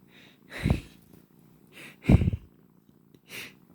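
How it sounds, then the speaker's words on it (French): Soft, close purring of a kitten swells and fades in slow breathing cycles, three or four rumbling pulses with quiet gaps between. "Regardez ces petits chatons là."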